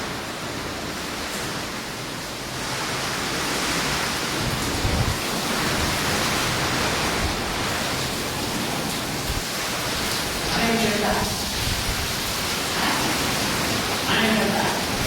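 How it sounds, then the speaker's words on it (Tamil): Heavy rain pours down in a dense, continuous hiss, loud and steady throughout, with a few faint voices coming through now and then. "எங்களே மழைலாம் ஒரு பக்கம் அடிக்குது"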